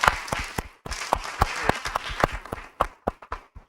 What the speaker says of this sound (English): Thank you very much, and a big applause for you.